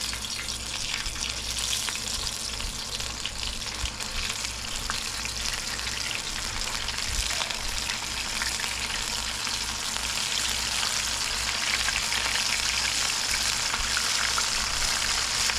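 Chorizo frying in a hot pan for tacos, with a dense, steady crackling sizzle that runs loud and close for the whole stretch, with no voices.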